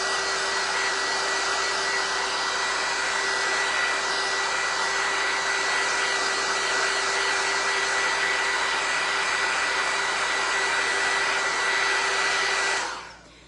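Hair dryer blowing on freshly brushed white paint on a wooden shelf sitter, a loud, steady whooshing whine with a constant pitch that holds for about thirteen seconds and then switches off.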